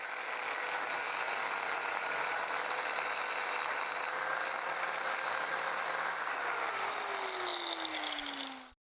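A power tool grinds a weld smooth on an iron rail, a loud continuous whine with a gritty metallic edge that holds for about nine seconds, then winds down and cuts off.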